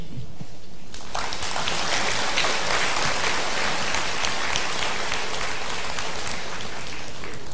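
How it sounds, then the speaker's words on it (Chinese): An audience at a Buddhist fire ceremony at a Taiwanese temple breaks into loud, sustained applause welcoming guests, a dense even wash of clapping that starts abruptly after a quiet second. "我们以热烈掌声欢迎所有的贵宾。"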